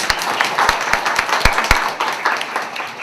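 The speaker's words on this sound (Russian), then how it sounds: "Аплодисменты." Audience applause at a poetry festival welcoming a poet, a dense burst of many hands clapping with a few sharp, close claps standing out.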